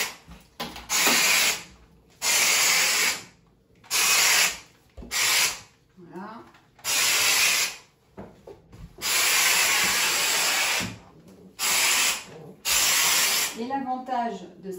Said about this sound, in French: l'idée c'est toujours d'envoyer la vapeur pour ramollir la saleté et de ramasser au retour avec la microfibre